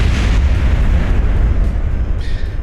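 A rocket engine fires in a space flight video game as a loud, steady broadband roar that fills the whole stretch without letup, with no talk over it.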